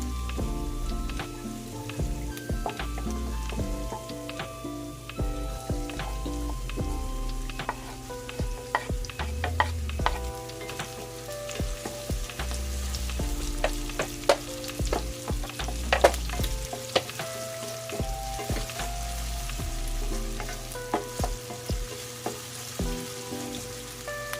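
Onions sautéing in a pan for squid adobo, a steady sizzle with repeated scraping stirs and clinks of a utensil throughout, fairly close and continuous with no talking.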